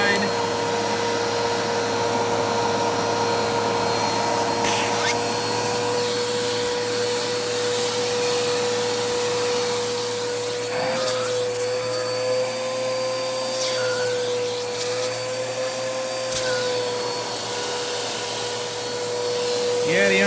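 Bissell Cleanview 2492 upright vacuum running continuously with the extension wand and crevice tool attached, a steady close motor drone with a constant whine and occasional bumps and rustles.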